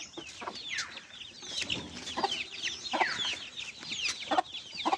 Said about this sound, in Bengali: ওইখানে অনেকগুলো মুরগি দেখতে পেলাম